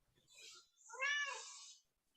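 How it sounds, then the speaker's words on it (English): A cat meows twice, a short call then a longer drawn-out one, close and fairly clear in a quiet room. "Is those your cats, Rob?"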